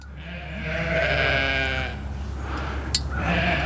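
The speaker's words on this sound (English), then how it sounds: "The sheep bother me." Sheep bleating nearby on a farm, a long wavering bleat followed by another shorter call, loud and clear with no talk over it.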